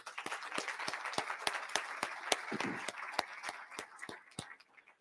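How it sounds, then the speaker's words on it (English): A forum audience applauds at a talk with the Columbus Zoo CEO, sounding as sparse, evenly spaced individual claps, fairly close and fading slightly by the end. "Give them a round of applause as well."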